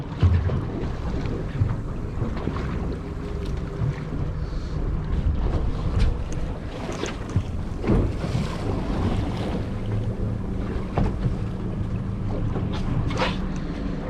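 A fishing boat's motor hums steadily while trolling for salmon on open water, with wind buffeting the microphone and waves slapping the hull throughout.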